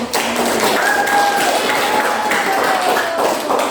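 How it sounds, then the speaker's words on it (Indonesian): Classroom applause for a student group in a teaching session, a dense burst of clapping from the class lasting a few seconds, fairly loud, with some voices underneath. "Berikan tepuk tangan yang meriah."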